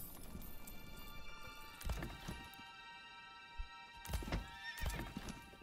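A horse in the medieval strategy game Manor Lords whinnies twice and clops its hooves between the calls, the sounds fairly close against a quiet, steady game background.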